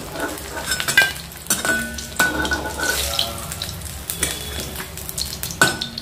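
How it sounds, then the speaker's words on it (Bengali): Hilsa fish heads crisp in hot oil with a steady, crackling sizzle, broken by sharp spits and pops every second or so, close and fairly loud. "রান্নাটা করার আগে আবারও একবার আমি এগুলোকে একটু কড়া করে ভেজে নেব"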